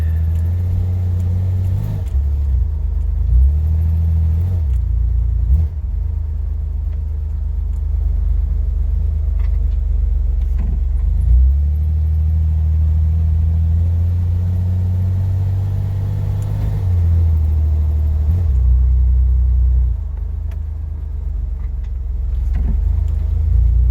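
A car engine runs steadily at low revs while the car is driven a short way to be parked, with a deep continuous rumble and a few small throttle changes; the throttle has been sticking.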